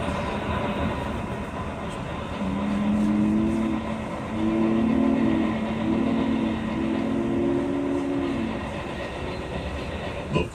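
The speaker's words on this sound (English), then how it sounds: "The 4019 already has its train rolling at a good clip as it leaves Cheyenne's yards and heads for Laramie." Union Pacific Big Boy 4019 steam train rolling out of Cheyenne's yards toward Laramie, a constant rumble of moving cars with a low droning whistle-like tone in the middle, heard from an old VHS recording.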